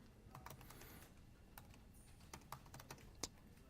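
Code is typed on a computer keyboard, a faint, uneven string of light clicks and a few sharper taps in a quiet room, with no talking.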